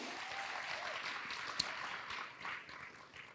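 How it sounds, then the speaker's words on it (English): Audience applause at a talk event, a quiet, steady round of clapping from a crowd lasting a few seconds with one sharp clap standing out. "Round of applause for that."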